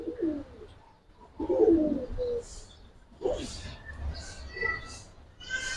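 Pet pigeons kept for sale cooing in short throaty bursts close by, several calls in separate phrases, with someone talking over them.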